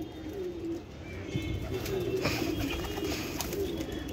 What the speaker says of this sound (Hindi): शाह परे कबूतर है ये